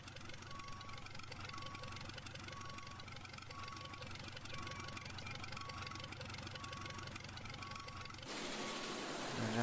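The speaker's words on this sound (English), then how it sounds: "extend the auger." Harvester machinery in the Farmer's Dynasty video game extending its auger: a steady, loud engine drone with a rhythmic mechanical pulse, shifting into a brighter, harsher whir near the end.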